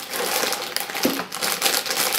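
Close, continuous crinkling of a plastic bag being handled, crackly and bright, with brief louder rustles.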